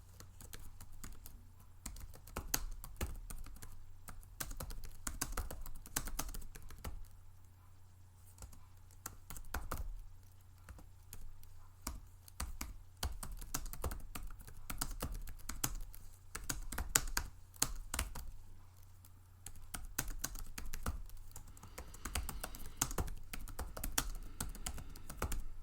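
Steady, fast typing on a computer keyboard while entering a bulleted list into a PowerPoint slide, with continuous close clicking that pauses briefly now and then.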